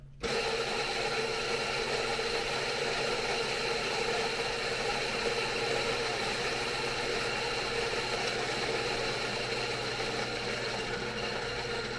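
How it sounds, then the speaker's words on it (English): A Rancilio Rocky coffee grinder runs steadily for about twelve seconds, purging a small one-gram dose of coffee beans, with a continuous close motor whir and grinding buzz and no talking. "it's nice to be in the habit of purging your beans between bags, or like purging the grinder, I mean."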